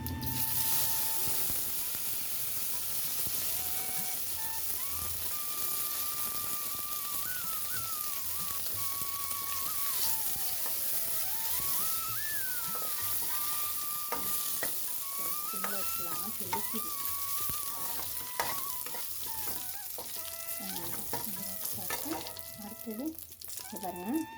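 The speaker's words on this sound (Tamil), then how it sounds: "கடுகு பாருங்கள் பொரிஞ்சிட்ருக்கா" Mustard seeds spluttering and popping in hot oil while tempering green apple sambar, a steady close sizzle with dense crackles throughout, under intermittent background music.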